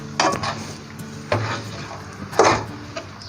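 Sesame seeds and coconut stirred into suji halwa in a pan, three separate scraping, clinking strokes of a spoon against the pan, close and fairly quiet, with no talking.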